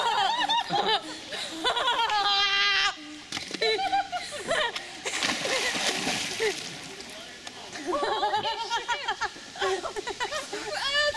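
A splash as someone jumps feet-first into cold spring-fed fresh water outdoors, a brief broadband burst amid loud shrieks, laughter and excited talk from a group of friends.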